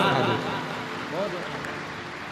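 Large crowd clapping steadily for the organizing committee at a Shiv Mahapuran katha gathering in Mira Road, Mumbai, a broad wash of applause that slowly fades, with a voice briefly heard over it.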